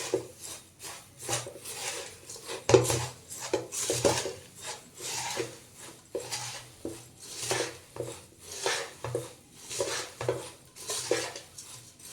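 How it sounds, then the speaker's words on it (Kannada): Churmuri puffed-rice snack being tossed and mixed by hand in a bowl, North Karnataka style, giving steady rhythmic scraping and rustling with light clinks against the bowl, close and continuous without talk. "ಹಾಕ್ಕೊಂಡು ಈ ರೀತಿ ಚೆನ್ನಾಗಿ ಕಲಿಸ್ಕೋಬೇಕು ಇದನ್ನೆಲ್ಲ."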